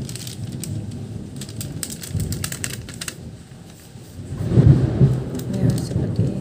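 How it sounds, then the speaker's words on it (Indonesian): Rain falls outside with a rumble of thunder that swells to a loud low roll near the end, while nearby keyboard-like clicking taps on and off. "di luar hujan dan gunturnya"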